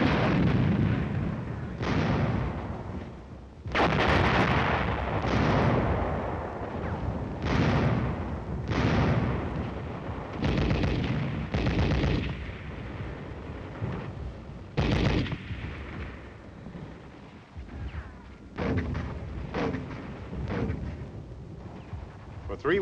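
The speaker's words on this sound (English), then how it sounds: "Once again, artillery, tank, and mortar fire overtured the attack." Artillery, tank and mortar fire from Korean War combat footage at Bloody Ridge, with repeated heavy booms and blasts at irregular intervals over a continuous rumbling background.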